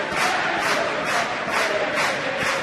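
Dense roar of a rugby stadium crowd cheering during a wet night match between Northampton Saints and Montpellier, loud and continuous with rhythmic swells every half second or so.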